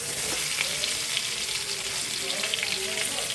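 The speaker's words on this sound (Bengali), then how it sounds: "আলুটা একটু ভাজা হয়ে যায়।" Salted, boiled potatoes fry in a pan for a vegetarian meal, making a continuous close sizzle with faint crackles and occasional stirring, and no clear speech.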